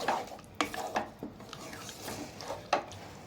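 A spoon scraping and knocking around a pot of chicken curry with a little water added, quiet irregular clinks and scrapes at close range with a faint background hiss.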